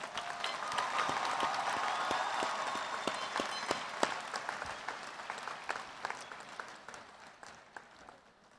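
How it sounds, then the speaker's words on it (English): A commencement audience gives a sustained round of applause, a dense wash of clapping from a large crowd that gradually thins into scattered claps. "Please join me in a round of applause and thank them for their service."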